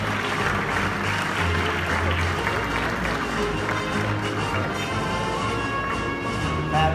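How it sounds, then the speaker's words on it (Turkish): Applause at the Design Week Turkey 2017 award ceremony as a designer is invited onstage, a dense steady wash of clapping from a large audience lasting throughout, with a low hum and possible voices underneath. "Tasarımıyla tasarımcı Merve Kutlu'yu alkışlarla sahneye davet ediyoruz"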